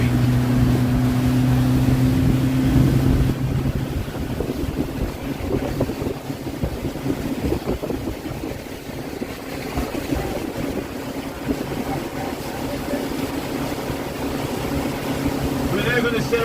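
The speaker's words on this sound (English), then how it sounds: "We're now going to sail across to the other side of the lake." Boat motoring across a lake on the Butler Chain, a steady engine drone with wind buffeting the microphone, continuous and fairly close throughout.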